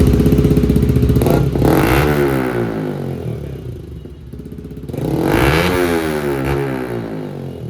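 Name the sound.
Yamaha R15 V4 motorcycle revving with Akrapovic-style full system exhaust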